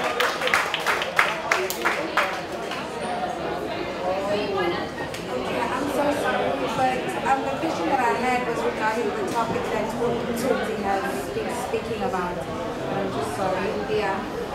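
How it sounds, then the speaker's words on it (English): Audience applause at a DFC event on working in TV and film, a burst of clapping at the start that fades into steady crowd chatter and murmuring voices. "Let's give a round of applause, please"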